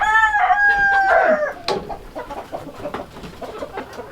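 Chickens in a coop on a farm, a rooster crowing loudly near the start, then hens clucking and scratching close by.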